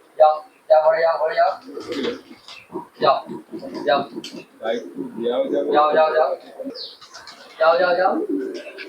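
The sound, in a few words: pigeons cooing and flying up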